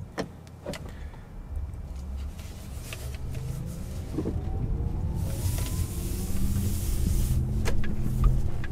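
Porsche Taycan electric car cruising on the road in normal mode, a low steady rolling hum of tyres and cabin noise that swells gradually, with a faint whine and occasional clicks, no speech.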